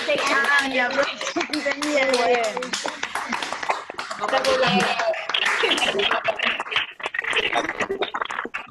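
An audience applauds at a lecture on Viktor Frankl and logotherapy, clapping running continuously beneath lively overlapping voices and cheering that dominate the sound throughout.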